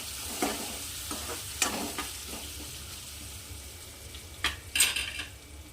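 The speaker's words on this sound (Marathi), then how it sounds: "मसाल्याला परतून घ्यायचं" Masala with turmeric and red chili powder being sautéed in a pan: a soft steady sizzle broken by sharp scraping and clinking strokes of a spoon against the metal, close up with no talking.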